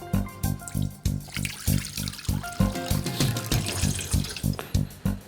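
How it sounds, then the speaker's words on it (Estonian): Tap water running and splashing into a bowl with measurement markings, a steady close stream under a repeated rhythmic thumping background. "Kausil on mõõdud peal, lisan vett."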